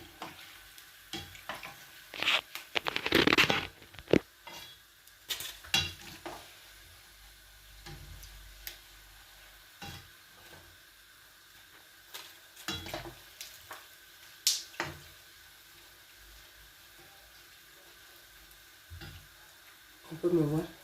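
Banana fritters frying in hot oil, with a faint crackle broken by clattering utensil knocks and stirring bursts, loudest near the start and again toward the end.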